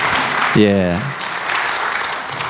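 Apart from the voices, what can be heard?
church congregation applauding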